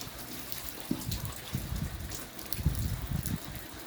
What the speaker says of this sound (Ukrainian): Значить не такий сильний дощ ще